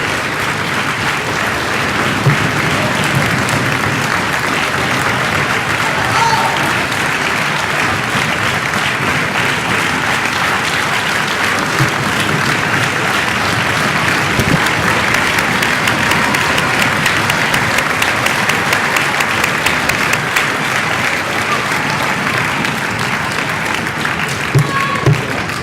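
Sustained, loud applause from a crowd at an evening trophy presentation in Soustons, thick continuous clapping that swells slightly midway and carries on without pause, with faint crowd murmur underneath.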